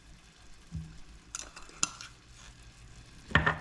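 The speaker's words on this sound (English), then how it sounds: "Now we're gonna give this a stir" Cajun-seasoned catch being stirred in a hot pan: a soft, quiet sizzle under a few brief spoon scrapes and clinks, ending in a sharper, louder scrape.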